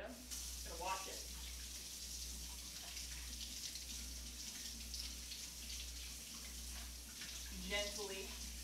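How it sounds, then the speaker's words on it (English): A tap runs softly in a kitchen while a beefsteak tomato is rinsed under it, a faint steady stream with brief splashes, over a low hum. "I got a giant beefsteak tomato. Gonna wash it."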